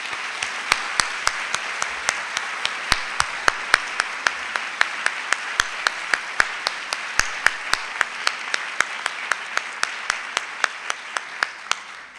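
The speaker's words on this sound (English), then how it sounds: "I would like you to applaud the efforts of all of these individuals." Audience applause at a CAOT awards lecture, a steady wash of many hands clapping with sharper individual claps standing out throughout, sustained evenly for over twelve seconds.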